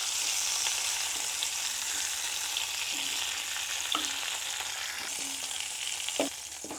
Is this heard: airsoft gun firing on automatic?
no